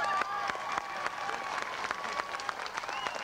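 An audience applauds a band at a 1990 Etowah, Tennessee show. The clapping is dense and sustained throughout, with crowd noise and a little cheering mixed in.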